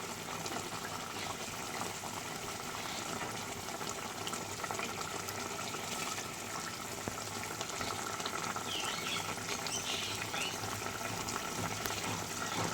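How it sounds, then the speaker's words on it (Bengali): A pot of Bengali fish curry broth with ridge gourd, rohu and potato boils steadily, giving a continuous soft bubbling and sizzling hiss at moderate level with no talking. "আমার ঝোলটা প্রায় ফুটে গেছে"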